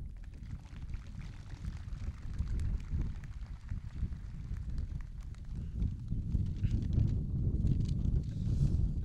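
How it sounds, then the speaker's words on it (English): Wind buffets a microphone at an outdoor middle school graduation, making a low, rumbling roar that gusts unevenly and grows slightly stronger toward the end. "It's really windy up here."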